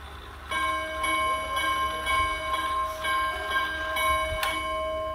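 A pendulum wall clock with a 17 cm glass face strikes its bell chime in a quick series of ringing tones, each note sustaining and overlapping the next, close and clear against faint room hum.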